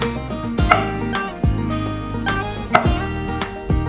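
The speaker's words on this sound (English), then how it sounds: "And slice some mushrooms." A knife slices through mushrooms on a cutting board in a home kitchen, five sharp, evenly spaced chops ringing against the board over a low background hum.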